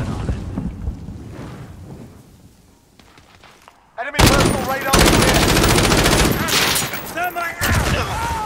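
In a hardcore match of the video game Modern Warfare, heavy, booming gunfire erupts loudly and close after a quieter stretch. The shotgun blasts and other shots pile into a dense, sustained barrage, with game voices mixed in.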